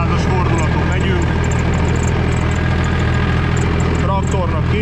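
A tractor engine turns steadily at about 1600 rpm with the rear power take-off engaged in third, driving a rotary tiller in a field; a loud, even low drone with slight knocking runs throughout.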